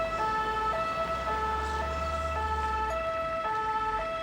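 An ambulance siren wails at an emergency department, a two-tone cycle repeating steadily over a low engine rumble, fairly close and continuous with no talk.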